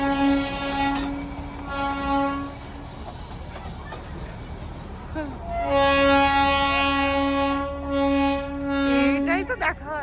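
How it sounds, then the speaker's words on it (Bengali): A Darjeeling toy train passes nearby, sounding its horn in long sustained blasts with a pause between them, over rumbling wheels and rail noise. "এখান দিয়ে টয় ট্রেনটা দেখতে পেয়েছি"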